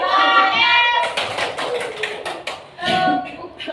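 Children in a classroom clap their hands in a counting clapping game, with sharp bursts of rapid claps in irregular groups alternating with a teacher speaking between rounds.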